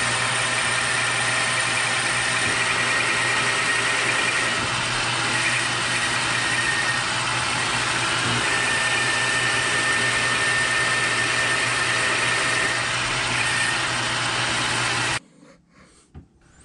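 A steady metal-cutting hum and whine of a lathe carries on without a break while a shaft is turned down to diameter. It holds an even pitch for about fifteen seconds, then stops suddenly into near silence.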